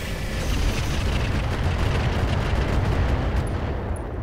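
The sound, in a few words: weapons fire and explosions in Roguetech video game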